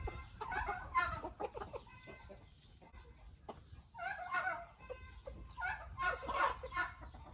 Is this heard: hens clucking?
yes